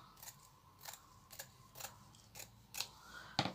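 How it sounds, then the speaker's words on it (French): Scissors snip through lace for making a flower, about seven sharp, quiet cuts spaced irregularly in a still room, the last one louder. "Je prends un ciseau, je coupe."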